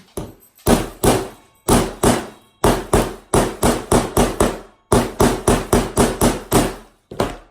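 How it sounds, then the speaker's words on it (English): Sharp hammer blows strike a metal grommet in quick irregular bursts, roughly eighteen loud close-up hits with brief pauses between groups. "this is where you hammer it in"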